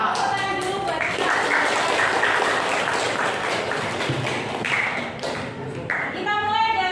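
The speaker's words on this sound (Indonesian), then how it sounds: "Tepuk tangan dulu buat kita" A school class at an Islamic junior high claps together indoors, a busy, continuous round of applause with voices and a few taps mixed in.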